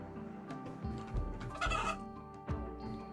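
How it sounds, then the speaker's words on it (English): A chicken in a zombie video game clucks in a few short, separate bursts, fairly faint and close, with brief pauses between and no talking. "Oh, that's the chicken."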